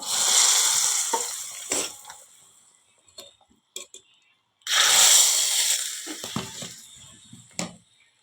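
Two loud bursts of sizzling as hot tempering hits sambar, each hiss fading out, with clinks and a voice briefly in between.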